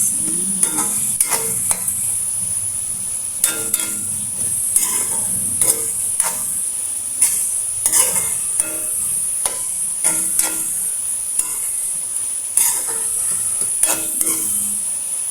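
Tomatoes fry in a pan with a steady bright sizzle while a utensil stirs them, giving repeated short scraping clicks in an uneven rhythm, close up and with no talking.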